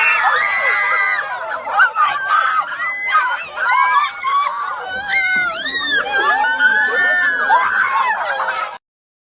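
A group of people at a scare attraction shriek and squeal in rapid, overlapping bursts, with high wavering screams mixed with nervous laughter and chatter, loud and close throughout before cutting off abruptly.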